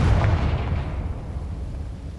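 A Confringo fire spell explodes in Hogwarts Legacy: a loud, close, low booming blast that rumbles and fades over two seconds.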